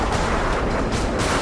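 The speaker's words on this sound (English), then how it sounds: "The F-15 fires a barrage of rounds into the peak." An F-15 fighter jet fires a barrage of rounds into a mountain peak during an airstrike on an enemy bunker, heard as a dense, continuous roar of rapid gunfire that holds steady without a break.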